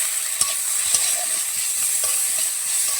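Meat curry with ginger paste being stir-fried, a steady sizzle broken by repeated scraping and stirring knocks of a utensil in the pan, close up with no speech.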